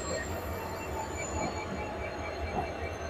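A Chennai Mail passenger train from Howrah rumbles along steadily with a rhythmic clatter of wheels and a thin high squeal above, heard from inside a carriage.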